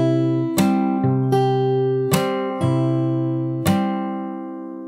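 Slow fingerstyle acoustic guitar playing part of a song, with five or six clearly plucked chords and notes ringing out one after another, close and alone with no voices.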